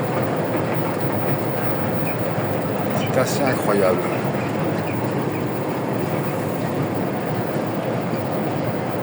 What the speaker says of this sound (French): C'est incroyable ce métro